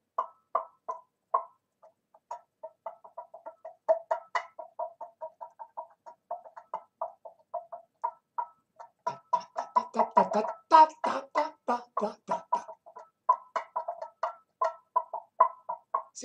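A tin can with a string attached, pulled to imitate a clucking chicken, gives a long run of close, rhythmic squawking clucks that thicken into a louder, busier burst midway before settling back to steady clucking.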